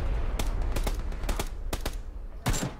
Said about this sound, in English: Left, a lot of bullets.